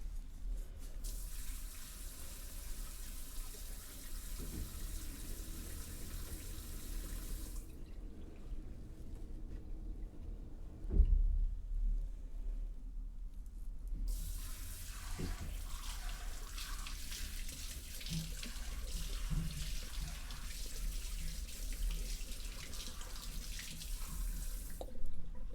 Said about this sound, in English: now I'm just going to rinse that conditioner out